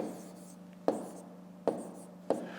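A pen scratches numbers onto paper while a fifth-grade long-division problem is worked out: three short, crisp scraping strokes at uneven intervals over a low, quiet room hum.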